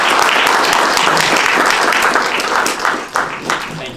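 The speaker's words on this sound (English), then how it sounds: "please give them a round of applause" Round of applause from an audience at a talk on US–India relations, loud, dense clapping filling the room continuously, with faint voices mixed in near the end.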